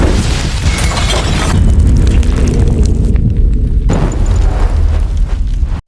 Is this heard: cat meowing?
no